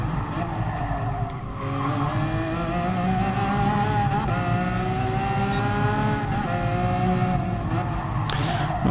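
A 2011 Lamborghini Aventador LP-700-4 in the GT Sport racing game, its V12 engine droning loud and steady with pitch sweeping up and down through gear changes, tires squealing under braking and cornering.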